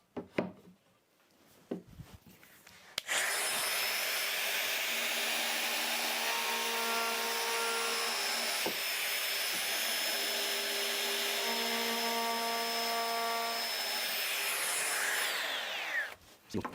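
Small Axminster roundover bit of about 2-3 mm in a router rounding the edges of a wooden dovetail splined mitre box, with a few handling knocks and then a loud, steady high motor whine with shifting cutting tones for about thirteen seconds.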